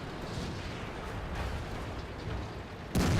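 A tank's main gun fires in World of Tanks, a single sharp, loud blast near the very end, after a steady low rumble of engine and battlefield ambience.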